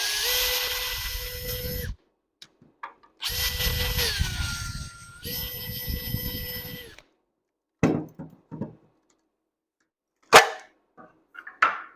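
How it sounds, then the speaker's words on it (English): A power drill bores into an acrylic tab in a sign workshop, running in two close bursts of a few seconds each with a steady whine that shifts pitch under load, followed by brief clicks and handling knocks. "Let's go through and drill into that acrylic tab."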